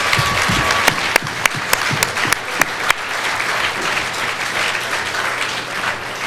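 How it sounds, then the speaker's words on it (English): Sustained applause from an audience at a boxing awards night, honouring the sport's officials: dense, even clapping fills the room, with a few sharp individual claps standing out near the start before the crowd settles into a steady roar. "I think we should give them all a huge round of applause tonight."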